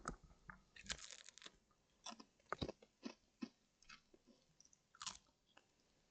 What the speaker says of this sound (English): I need a little snack before we move on. I'm gonna do some ASMR.